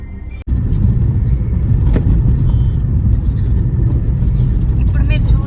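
Bangalore road traffic with cars waiting in a jam: a steady, loud low engine rumble close by that holds throughout, with one brief dropout near the start.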